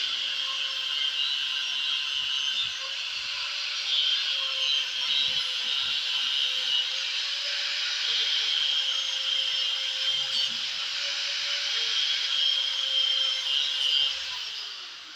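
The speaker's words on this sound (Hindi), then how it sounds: "ये इसकी रनिंग है जो यानी कि इस टाइम ग्राइंडर से हम काट रहे हैं" A grinder cuts into a ceiling fan with a continuous, loud, high-pitched whine that holds steady for about fifteen seconds before easing off at the end.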